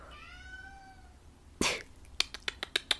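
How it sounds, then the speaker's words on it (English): A pet cat gives a long, wavering meow up close, followed by a sharp burst and a quick series of small clicking or sneezing-like sounds in an otherwise quiet room. "she's a meower. She just like walks around and meows."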